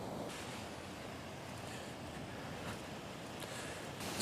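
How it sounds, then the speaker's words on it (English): Waterfalls at Kirkjufell in Iceland, a constant broad roaring rush of falling water with some wind buffeting, steady and fairly loud throughout with no voices. "I've now walked down to the second level of the waterfalls."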